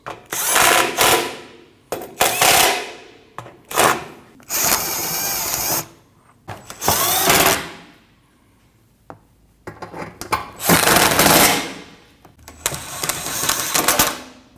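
Power tool tightening alternator bolts on a Nissan NV2500 5.6L V8, repeated short bursts of impact driving with pauses between, loud and close, each burst a second or two long.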